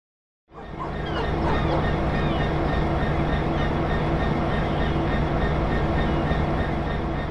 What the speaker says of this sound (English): Welcome to this BR Class 66 diesel-electric locomotive in EWS livery.